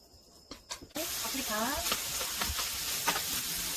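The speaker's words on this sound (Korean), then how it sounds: "이제 달군 팬에 들기름을 그리고 고기를 볶습니다." Meat hits a hot pan with perilla oil and is stir-fried, bursting into a loud, steady sizzle right after a few knocks, while a voice speaks briefly over the frying.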